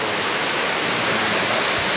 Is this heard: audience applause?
no